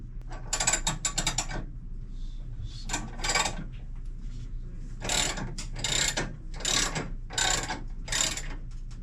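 A jack ratchets repeatedly while lowering a 1960 Harley-Davidson Panhead motorcycle in a workshop, giving several bursts of close mechanical clicking separated by short pauses, with no talking.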